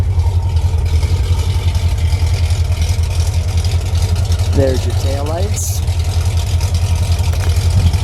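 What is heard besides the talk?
V8 car engine idling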